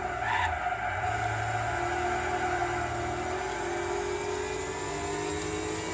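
A race car in Gran Turismo 4 lapping Fuji Speedway, its engine droning steadily and loudly as the pitch rises and falls through the gears, with faint tire scrubbing and no break in the sound.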